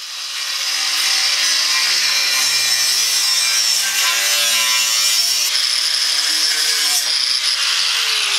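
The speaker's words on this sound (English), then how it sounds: "I'll start by cutting the super strut down to size." Super strut metal channel being cut to size with a hand saw, as steady, loud back-and-forth rasping strokes that continue without pause, close up and alone.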